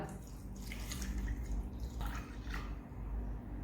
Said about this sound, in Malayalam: ഇതിലേക്ക് കുറച്ച് വെള്ളം ഒഴിച്ചാൽ മതി